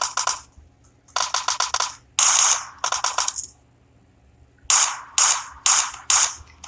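Gunfire in PUBG: several rapid bursts of sharp, loud shots in quick clusters, separated by brief pauses, with no voices over them.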